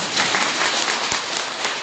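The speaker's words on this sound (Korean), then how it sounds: "박수를 크게 치는 걸 원칙으로 합니다" An audience bursts into loud, dense applause, many hands clapping together in a continuous wash for a couple of seconds.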